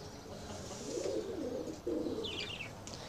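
Pigeons coo in a few rounded, throaty phrases close by, with a short pause between them and faint higher chirps near the end.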